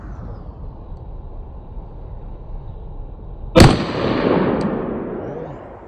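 A single sharp gunshot from Streak visual tracer ammunition at an outdoor range, cracking loudly out of a steady background hum and then trailing off into a long echoing rumble.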